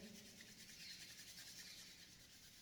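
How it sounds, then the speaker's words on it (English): Palms rubbing together at the close of a yoga class, a steady soft hiss of skin on skin held for a few seconds, near and quiet with no voice. "Rub the palms together."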